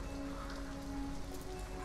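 Steady rain pours down in Detroit: Become Human, a dense, even hiss of drops on surfaces with a faint low hum underneath, continuous and close throughout with no voices.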